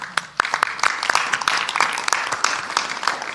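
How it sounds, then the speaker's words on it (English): Scattered applause from an audience at a political event on climate with Speaker Pelosi, individual claps sharp and distinct in an uneven, sparse rhythm, moderately close in a room. "let us applaud them"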